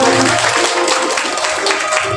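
Wedding guests clap for the bride and groom, a brief burst of close, dense applause with faint crowd murmur beneath.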